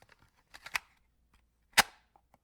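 Sound-effect gunshots from a staged alien shootout: a quick cluster of small pops followed, after a pause, by one sharp, louder report with a short decay.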